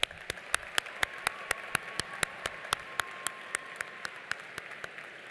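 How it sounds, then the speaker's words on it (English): Audience applauding graduates at a college commencement, a quiet, distant stream of steady claps heard from afar. "Everyone, please join me in applauding these outstanding graduates."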